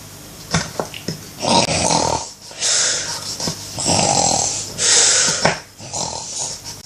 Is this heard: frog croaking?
no